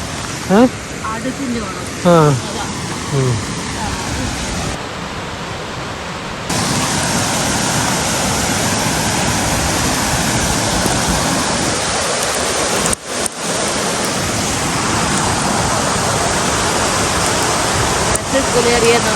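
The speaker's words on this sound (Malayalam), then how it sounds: "നല്ല മഴയും പെയ്യ." Heavy rain pours steadily in Kutaisi, Georgia, a dense loud hiss that runs the whole time, with people talking faintly early on.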